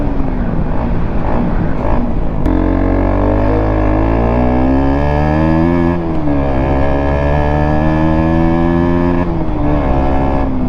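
A Honda RC125 BS4 motorcycle engine runs steadily up close, a loud, continuous buzzing drone whose pitch rises and dips slightly with small throttle changes after it catches.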